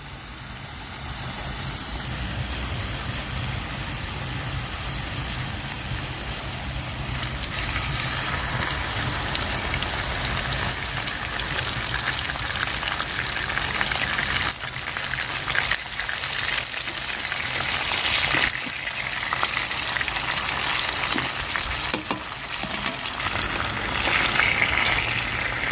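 Homemade chips fry in a pan at a woodland camp, a steady dense sizzle and crackle that runs the whole time and grows slightly louder and more popping toward the end, with no talking.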